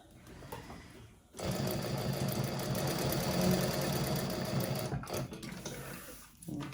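A sewing machine stitches a handbag lining between rows of gathering stitches, running in one sustained rapid mechanical whir for several seconds after a quieter start, then stopping briefly and restarting.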